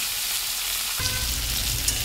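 Vegetables fry in a pan. The sizzle is subdued at first, then jumps suddenly into a loud, dense, crackling hiss as more goes into the hot oil, and it stays strong to the end.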